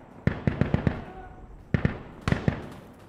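Gunfire in Insurgency: Sandstorm: a rapid string of five sharp shots, a pause, then two more and another pair, moderately loud with short echoing tails.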